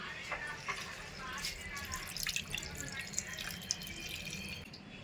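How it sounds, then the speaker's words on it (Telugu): Water trickles and drips into a small pan of fish curry being made outdoors, a soft, steady pouring with scattered splashes. Faint voices and background noise sit underneath. "ఇప్పుడు నీళ్ళు వేసుకుందాం"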